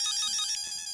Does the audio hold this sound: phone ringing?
yes